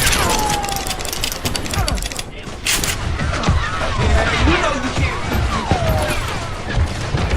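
Rapid gunfire and shouting in a Wild West shootout in Call of Juarez Gunslinger, dense bursts of shots and impacts layered over music, loud and close throughout.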